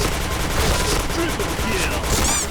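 Rapid bursts from the SC gun in Point Blank, fired without recoil-control gear, form a dense, loud, continuous clatter that fills the short stretch with hardly a gap. Faint voices or game sounds may sit beneath it.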